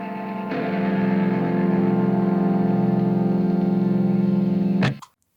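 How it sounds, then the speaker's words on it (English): Sustained buzzing, distorted electric guitar noise made by shaking the instrument, holding steady with a slight pulsing texture before cutting off abruptly near the end. "I have just some guitar, not feedback, but more just sort of white noise, if you will. Like I just kind of shook the guitar a little bit."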